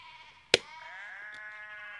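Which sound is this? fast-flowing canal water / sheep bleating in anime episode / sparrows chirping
sheep bleating in anime episode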